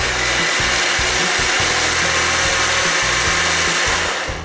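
Rosehip purée mixed with 200 g of water in a shaker, giving a loud, continuous shaking and whirring churn with a rhythmic low pulsing. It runs steadily throughout and fades slightly at the end, with no voices.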